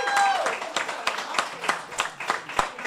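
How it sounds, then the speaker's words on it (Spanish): Applause at a live comedy show, scattered fairly close clapping of a small crowd with distinct individual claps, mixed with some talk and laughter. "Un aplauso para ellas."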